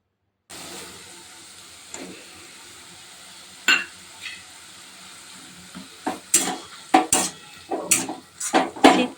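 Boiled ponka greens being stirred with poppy seed paste in a pan, giving soft scraping and sizzling with sharp utensil knocks that grow busier and louder toward the end, no talking.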